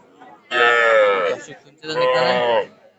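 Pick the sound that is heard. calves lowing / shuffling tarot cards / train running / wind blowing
calves lowing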